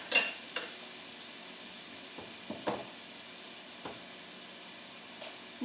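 Medium-to-large onions browning in olive oil in a pan give a faint, steady sizzle, broken by a few scattered stirring scrapes and clicks.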